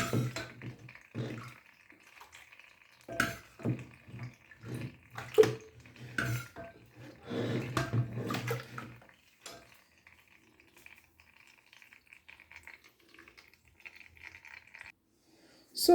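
Blended maize slurry for agidi being strained with water, close clattering of a bowl and utensils with splashing in irregular bursts, fading to near silence in the later half.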